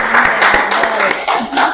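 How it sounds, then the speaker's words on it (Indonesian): Classroom audience applauding a student group after their presentation, a short burst of close, fast clapping from several people. "tepuk tangan untuk kelompok 2 sekali lagi ya"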